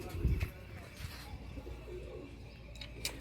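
Pigeons coo softly while being fed by hand, with soft low coos over a few seconds and faint voices and rustling nearby.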